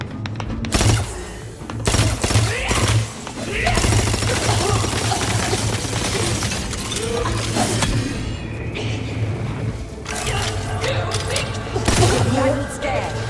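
Combat gunfire in the sci-fi role-playing game Outer Worlds 2, bursts of rapid shots and impacts over a humming background, loud and near, with voices speaking over parts of it.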